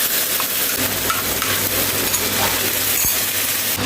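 A spice paste is rinsed with a splash of water into a hot pan on low flame while making a vegetarian potato curry, producing a continuous close sizzle and bubbling with a few faint metallic clinks of utensils.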